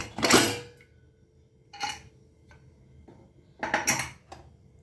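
A steel pressure cooker lid is handled and opened in a home kitchen, giving several close metallic clanks and scrapes in separate bursts with quiet gaps between them and no speech.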